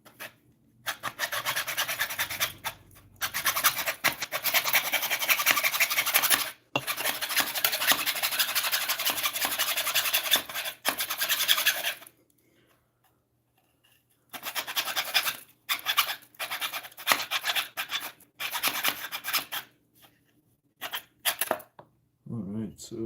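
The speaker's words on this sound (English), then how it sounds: "This is just leaving dents in it too. Sheesh. Not a fan of this saw." Hand saw rasping through wood in long continuous bursts of back-and-forth strokes, loud and close, pausing briefly before resuming in shorter choppy runs near the end.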